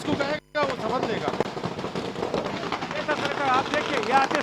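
Fireworks burst outside a BJP office at a celebration in Uttarakhand, a dense run of rapid crackling pops and bangs continuing throughout, loud and close.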